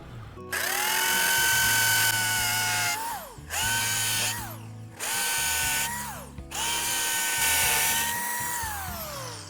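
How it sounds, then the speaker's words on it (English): A corded power drill with a depth gauge bores four holes for a flag bracket, four separate high-pitched whirring bursts of a few seconds each, spinning down between holes, close and loud with no talking. "We're ready to drill our 4 holes here"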